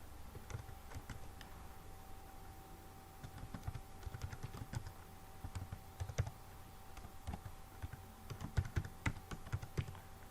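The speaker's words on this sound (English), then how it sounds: "For you to sign up, click here, type the email address." Someone types an email address on a computer keyboard, producing soft, irregular key clicks in short bursts against a faint steady hum, with no voices.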